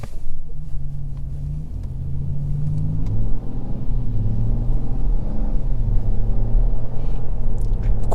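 Smooth low rumble of a 2023 BMW 740i with the B58 engine while driving, heard from inside the cabin, steady and fairly loud, rising slightly as the car accelerates.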